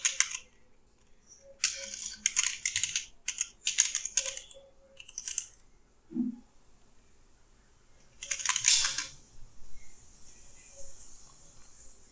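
A password is typed on a computer keyboard in several quick bursts of clicking keystrokes, separated by short pauses, close and fairly quiet, with no talking.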